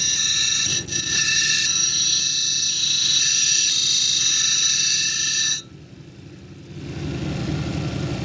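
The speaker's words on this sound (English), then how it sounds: "So let's keep grinding on 80 grit." Red velvet agate being ground on an 80 grit wheel, a loud steady whirring drone with the stone pressed against the wheel, which runs on alone after contact stops partway through.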